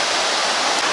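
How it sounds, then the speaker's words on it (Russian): Sea waves wash onto Haad Rin beach on Koh Phangan, a steady, loud hiss of surf that fills a short moment with no voices. "Волны."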